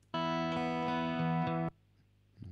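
A sustained distorted electric guitar chord with reverb, panned hard left, rings loud and steady for about a second and a half, then cuts off sharply, leaving a faint tail before another note begins.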